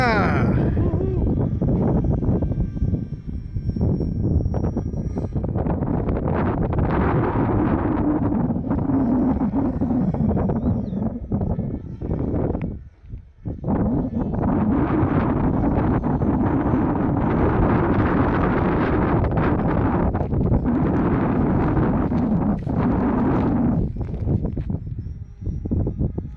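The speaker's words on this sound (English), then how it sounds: "It's very windy." Strong wind buffets the microphone outdoors in a loud, continuous roar, dipping briefly about halfway through before surging back.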